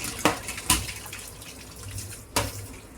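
Running water splashes and pours close by while a fish tank is washed, with a few sharp clatters of objects knocking against glass over a constant watery hiss.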